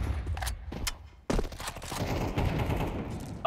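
Gunfire in Counter-Strike 2: a few separate sharp shots, then a sudden dense burst of rapid automatic fire that continues in a chattering stream of cracks.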